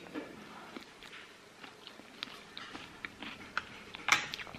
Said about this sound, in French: Je vais goûter et au final je pensais que ça allait pas être croustillant